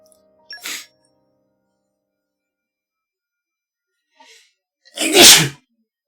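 A short faint sniff, then after a pause a loud, sharp sneeze bursts out close by, with a small soft breath just before it.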